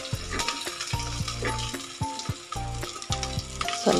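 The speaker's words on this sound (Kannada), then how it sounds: "ಈರುಳ್ಳಿಯನ್ನು ಸಹ ಸೇರಿಸ್ತಾ ಇದ್ದೀನಿ." Onions and green chillies fry in a pan for bottle gourd sambar, giving a steady sizzle with occasional stirring scrapes. Tonal music plays in the background throughout.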